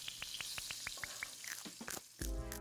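Catfish fillets frying in grease in a skillet give a soft, close sizzle with a rapid series of sharp crackling pops, followed by a brief clatter at the end.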